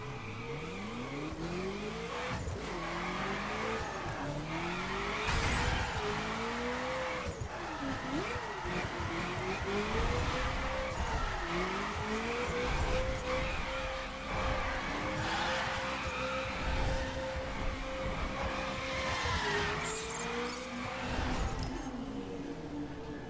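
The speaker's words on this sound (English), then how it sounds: "And then we can do the drift." In The Crew racing game, a car drifts with its engine revving up and down through repeated gear swings and long tire squeals over about twenty seconds, under a steady layer of game noise.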